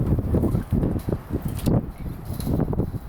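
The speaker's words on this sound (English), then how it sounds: "I don't know if you guys can hear the wind." Strong wind buffets the microphone at a construction site, a loud, gusting low rumble that rises and falls in uneven bursts.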